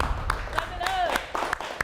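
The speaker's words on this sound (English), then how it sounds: "Round of applause" Applause from a studio audience on a cook-off challenge show: a steady spread of clapping runs through the whole stretch, with a host's voice speaking over it.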